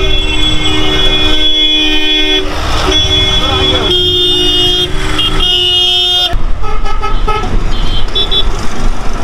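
Busy auto-rickshaw stand outside Canning station in the Sundarbans, with loud, continuous traffic noise, repeated honking horns and engines close by, and people talking throughout.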